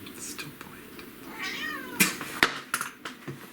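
A cat meows in a house, a clear rising-and-falling call close by, followed by soft clicks and small bumps.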